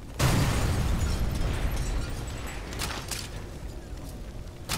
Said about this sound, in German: Panzer zerstört